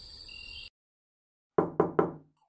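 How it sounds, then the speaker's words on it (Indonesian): Three firm knocks on a door in an animated Indonesian drama, close and loud, following a short stretch of steady background sound and then silence. "siapa sih ini ketok-ketok pintu?"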